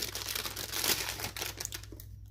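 Crinkling, crumpling packaging as a small glasses box package is opened by hand, a steady close-up rustle of plastic or paper with a steady low hum underneath, fading to quiet at the end.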